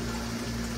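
Water running in a fish room during a large aquarium water change, a soft steady flow with a low pump-like hum beneath it, faint and continuous without voices.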